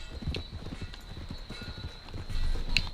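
Horse hooves clip-clop in the video game Red Dead Redemption 2, an even walking rhythm of moderately near hoofbeats with a faint tonal hum and a brief bright chime near the end.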